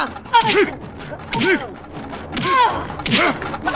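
Police shoes stomp hard on a floor, about four heavy thuds roughly a second apart, close and loud in a comic scene.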